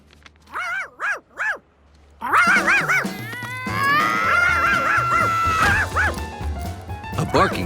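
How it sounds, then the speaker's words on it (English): A cartoon dog named Charky barks three times, loud and close with clear pauses between. Voices and a busy animated scene with music follow, and more yelps come through under the talk. "A barking Charky was even worse than a puddle."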